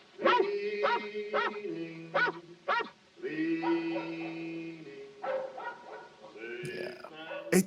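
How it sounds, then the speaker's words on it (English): Dog barking in the film The Night of the Hunter, a run of sharp yips and barks with whimpering tones, fairly close and repeated in bursts, with voices talking over part of it. "the first thing we hear is a dog barking"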